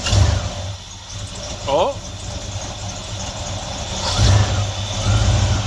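A 1973 Chevrolet C10 short box pickup, long neglected and rusty, with its engine running and rising in level toward the end, a brief voice exclamation near the start.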